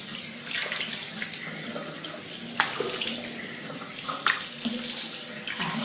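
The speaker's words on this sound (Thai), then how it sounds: "สักพักหนึ่ง ก็ล้างด้วยน้ำเปล่าออก" Tap water runs steadily from a faucet as a face is rinsed with plain water at a sink, a continuous close splashing wash with brief louder splashes and no talk.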